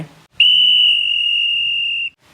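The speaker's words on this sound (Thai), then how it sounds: "เสียงนกหวีดดังขึ้นเป็นสัญญาณเริ่มการแข่งขัน" One long, loud, steady shrill whistle blast starting a race, lasting nearly two seconds, close by, with quiet murmuring before it.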